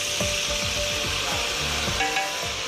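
Curry paste frying with onions in a hot pot, a close, steady sizzle and crackle with regular scraping strokes as the mixture is stirred.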